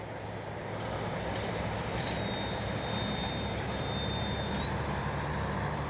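An E-flite 64mm Viper RC jet comes in to land with flaps down, its ducted-fan engine whining steadily in the distance over a broad rushing hiss, the pitch sliding slightly as the throttle changes.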